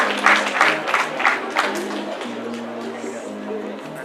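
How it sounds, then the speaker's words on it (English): An audience at an intercultural conference gives a round of applause, a few bursts of clapping early on that settle into a softer wash beneath a steady tonal hum and voices. "Please put a round of applause for her"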